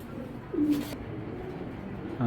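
Belgian breed pigeons cooing softly, with a short coo near the middle and another at the end over a quiet background hiss, plus a brief rustle.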